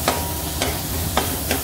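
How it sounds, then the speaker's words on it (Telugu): Ginger garlic paste frying in a pan for egg fried rice: a constant sizzle broken by four sharp spatula scrapes at fairly even intervals, close and fairly loud. "బాగా పచ్చి వాసన పోయే వరకు ఫ్రై చేసుకోవాలి."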